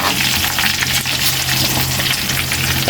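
Onions fry loudly in hot oil in a pot for a tilapia dish, a dense, continuous close-up sizzle with faint stirring scrapes underneath and no talking.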